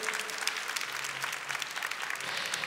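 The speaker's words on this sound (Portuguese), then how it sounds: "pode aplaudir a palavra do Senhor com força" A church congregation applauds during a Portuguese-language sermon, a steady, dense wash of many hands clapping together, moderately distant and sustained without pause.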